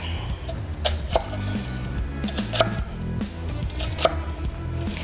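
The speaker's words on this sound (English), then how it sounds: "So that is how you quickly dice an onion" A knife dicing an onion on a cutting board in a cooking show kitchen, producing a handful of sharp, separated taps at an uneven pace, fairly close, with low background hum beneath.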